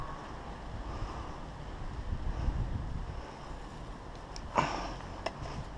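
Wind blows outdoors at an air rifle range, a steady rumbling gust noise buffeting the microphone at moderate volume, with a brief sharp knock partway through and no talking.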